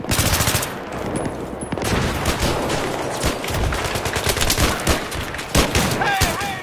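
An AEK assault rifle fires rapid, loud bursts in Battlefield 3, shots crackling in dense overlapping volleys throughout, with other in-game gunfire around them.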